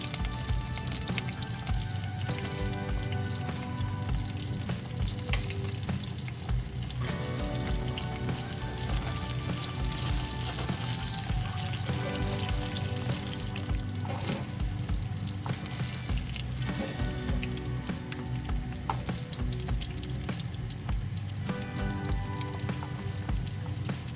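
Steady, continuous sizzling of eggplant frying in hot oil, a dense crackle that holds at a constant level throughout with no talking.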